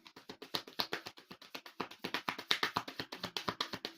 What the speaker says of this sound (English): Oh, one more shuffle, okay.